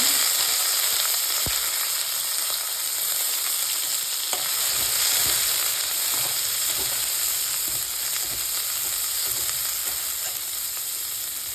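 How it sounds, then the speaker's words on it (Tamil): Onions sautéing in a pan with popped mustard seeds and urad dal for a beetroot poriyal give a steady, close, loud sizzle and crackle, with occasional soft stirring scrapes and no voices. "கடுகு பொரியல், இப்போ வெங்காயம் சேர்த்துக்கலாம்."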